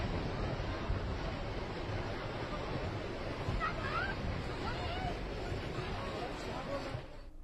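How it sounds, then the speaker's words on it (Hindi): Heavy-rain floodwater rushes through a drain in a fast, roaring torrent, loud and continuous throughout, with a faint voice briefly audible underneath. "ये देखिए, ये पानी का सैलाब है, बेहद तेज भाव है"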